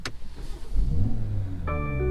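A BMW X4 M40i engine starts up close by: a starter crank, then a loud low bark that settles into a steady, rumbling idle with a smooth tone, alone without talk.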